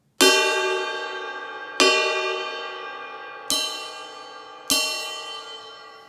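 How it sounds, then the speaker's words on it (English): Four separate strikes on the bell of a Sabian 22-inch XSR Monarch ride cymbal, each a bright, ringing ping with a long sustain that fades before the next hit, close and clear with no talking. "Here's the bell of the Monarch."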